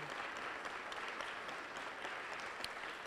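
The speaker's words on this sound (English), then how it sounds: "give a round of applause for all involved that made this happen." Dense audience applause follows a documentary premiere screening, a continuous, close wash of many hands clapping throughout.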